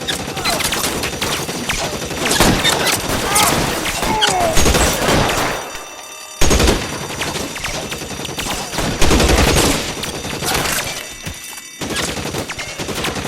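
Gunfire rattles through a bank shootout in L.A. Noire, dense overlapping shots and automatic bursts with short lulls, loud and close, with a few booming thuds in the mix.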